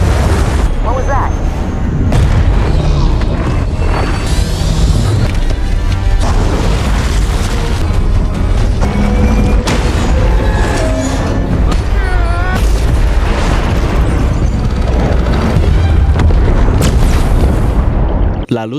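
A deep, booming blast destroys an underwater facility, with heavy rumbling and crashing debris sustained throughout, loud and dense, under talk and dramatic film sound.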